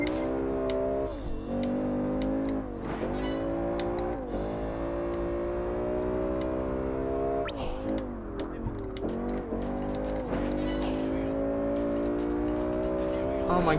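Cockpit-view engine of a car in Project Gotham Racing 4 with a paddle-shift gearbox, revving loud and steady, its pitch climbing and dropping through repeated gear changes across the run.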